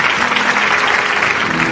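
A church congregation breaks into steady, dense applause that fills the room, many hands clapping together at an even loudness throughout with no pauses.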